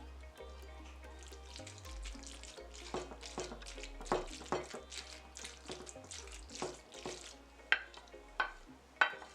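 Shrimp being stirred into mac and cheese in a pot, giving repeated wet scraping and clinking strokes over a low steady hum, close and moderately loud with sharper knocks toward the end.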